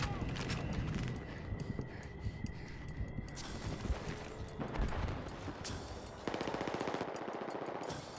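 Machine gun fire in Battlefield 6: sustained rapid automatic bursts at mid distance over busy battlefield noise, ending in a tighter, louder burst, with no speech.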